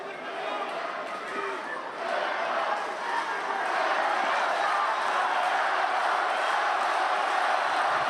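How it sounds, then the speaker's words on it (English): A large crowd roars steadily at a European Club Championships final, a dense, sustained wall of cheering and shouting that swells after the first couple of seconds and stays loud throughout. "Crowd really vocal at the moment."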